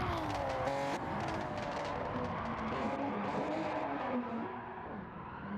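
A race car engine roars and wavers while tires squeal and skid, the pitch sliding up and down as the car slews around.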